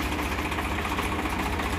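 Swaraj tractor with a Kirloskar engine running close by, a loud continuous low-pitched rumble with a fast mechanical patter throughout, no voices.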